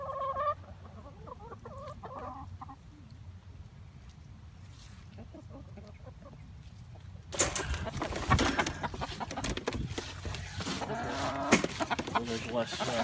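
Homestead chickens cluck and call, faint at first beneath a person talking, then louder and busier in the second half with scattered squawks and clucks close by.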